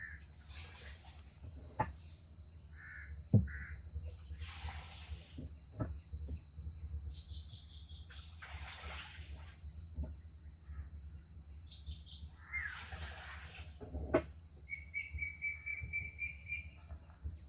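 Birds call in a quiet mangrove forest at Pichavaram during a slow boat ride. Occasional short chirps sit over a steady, high insect drone and a low hum, all faint.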